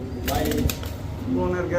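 Soft cooing and fluttering of silver Giribaj high-flyer pigeons close by, with people talking over them throughout.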